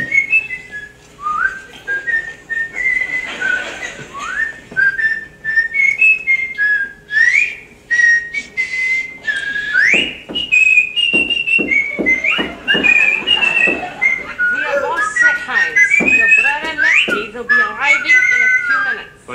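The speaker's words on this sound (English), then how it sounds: "I didn't hear you. I was whistling." A person whistles a lively, wandering tune in a stage comedy sketch, clear and close, with quick runs and slides broken by short pauses and a few bits of voice underneath.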